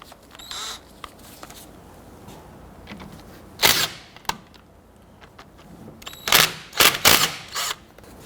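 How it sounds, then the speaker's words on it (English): 14mm socket working loose and removing the two brake caliper bolts on a 1992-1996 Toyota Camry, giving sharp clicks and a few metallic clacks in bursts around the middle and end, with quiet stretches between. "I'm going to use a 14mm socket to loosen and remove the two bolts"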